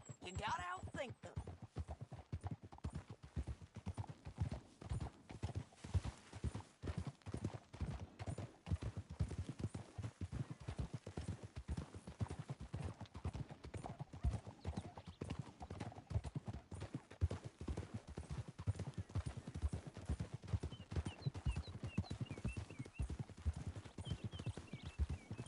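Horse hooves clip-clop steadily throughout in Red Dead Redemption 2, a continuous rhythmic trot under background game voices, with occasional horse snorts.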